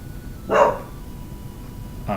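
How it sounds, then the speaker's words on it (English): A small dog barks inside a house, two sharp separate barks about a second and a half apart, fairly close and alone with no talking. "go see what Little Pup is barking at real quick"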